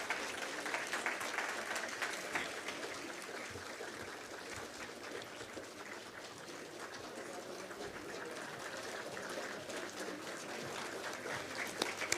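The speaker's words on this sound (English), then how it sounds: "Keep clapping until they have their seats." Steady clapping from a town hall audience as a VIP entourage takes its seats, a dense, continuous wash of hands that holds at an even level for the whole stretch with no break.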